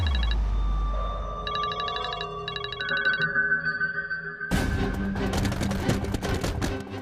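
A telephone rings with repeated electronic trills in short bursts, followed by a louder dramatic music sting that takes over the second half.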